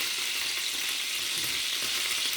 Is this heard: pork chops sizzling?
yes